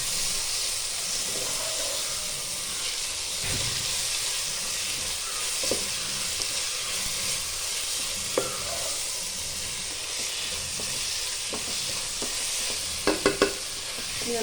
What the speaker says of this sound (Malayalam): സവാളയൊക്കെ നല്ലപോലെ വഴണ്ട് വന്നിട്ടുണ്ടെങ്കിൽ നമുക്ക് ഇതിലോട്ട് തക്കാളി ചേർത്ത് കൊടുക്കാം.